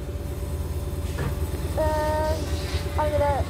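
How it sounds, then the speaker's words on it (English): Steady low rumble inside a moving passenger train in Merseyside, with a couple of short tonal squeals or whistles rising over the drone. "this is the exact train we're on now."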